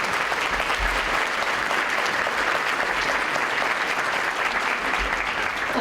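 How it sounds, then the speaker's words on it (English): A dinner crowd gives steady, sustained applause for dignitaries at an organization's 20th anniversary celebration, many hands clapping evenly throughout. "A big round of applause for our dignitaries attending this evening"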